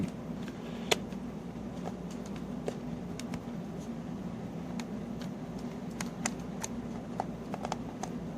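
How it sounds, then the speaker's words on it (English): Plastic contact pads of an opened 1984 Nintendo Kung Fu cartridge are cleaned, making scattered sharp clicks and light scraping taps over a low steady room hum. "Let's open this cartridge up, clean the contact pads like we've been doing."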